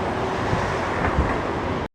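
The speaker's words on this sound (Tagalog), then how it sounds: "Lakas kasi ng hangin. Mahangin pala ngayong araw na to." Strong wind gusts roar loudly and steadily outdoors on downtown Fremont Street for about two seconds, then cut off abruptly.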